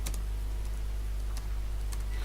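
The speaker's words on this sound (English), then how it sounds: "So we type in the caption we want," Keys clatter on a computer keyboard as a photo caption is typed, a few quick taps over a steady low hum, with no speech.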